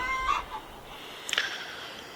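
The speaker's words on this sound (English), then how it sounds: "that chicken's in there clucking. She's laying an egg." A hen clucks while laying an egg, in short, scattered bursts, with a louder squawk partway through, over a faint steady background hum.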